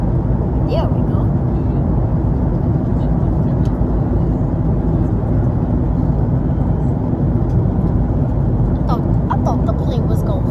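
Steady, loud airplane cabin rumble during turbulence on a flight over the Gulf of Mexico, a dense continuous roar with faint brief voices and small clicks near the end.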